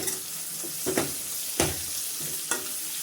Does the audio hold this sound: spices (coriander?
yes